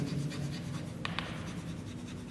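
Pen writing by hand while solving a maxima and minima problem, steady soft scratching strokes over a constant room hum, with no voices.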